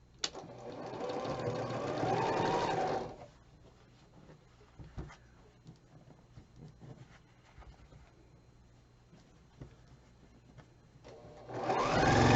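A sewing machine stitches a quilt block in two bursts of steady, fast mechanical whirring at the start and end, with quiet handling and light rustling of fabric between them.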